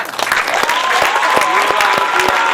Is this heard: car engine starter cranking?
no